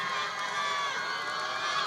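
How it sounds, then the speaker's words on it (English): A large outdoor crowd at an election eve drive-in rally cheers and applauds, a dense continuous roar of cheering and clapping with no letup. "Can everyone give a round of applause for our new Vice President, Kamala Harris?"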